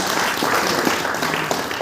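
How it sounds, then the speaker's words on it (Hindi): Congregation applause at a Hindi-language Christian church sermon, a dense, steady burst of many hands clapping close by for about two seconds without talk over it. "ताली बजाओ"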